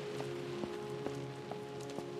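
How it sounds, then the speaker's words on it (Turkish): Steady rain falls outside in the horror video game Close To The Sun, a constant wash of patter with a few sharper drops, heard alone beneath a sustained tonal hum. "Dışarıda yağmurlar."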